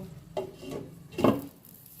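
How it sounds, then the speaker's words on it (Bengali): A metal pot lid lifted off a pan of simmering potato curry in a home kitchen, giving a short clatter and scrape near 1.25 seconds, with softer utensil knocks before it and no talk. "ঢাকনাটা আমি তুলে নিলাম"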